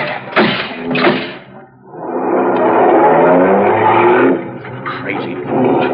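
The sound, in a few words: car speeding away in pursuit, radio drama effect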